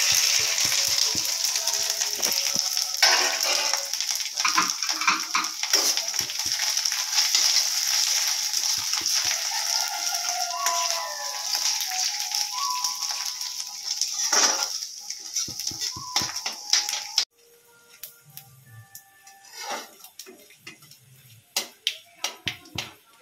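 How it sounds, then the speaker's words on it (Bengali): Asafoetida, fennel seeds, two dried chillies and a bay leaf frying in oil in a kadai, making a close crackling sizzle with sharp pops. It cuts off abruptly near the end, leaving sparse clinks and taps. "একটু হিং, মৌরি, শুকনো লঙ্কা দুটো আর তেজপাতা ফোড়নে দিয়ে দিলাম"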